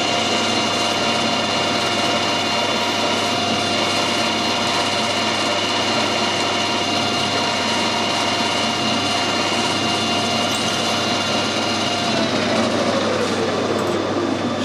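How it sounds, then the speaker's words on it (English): A drill runs continuously while cutting an 8mm hole in a vintage motorcycle oil filter part, a steady high-pitched motor whine with a constant hum, no voices. "Same with the 8mm drill."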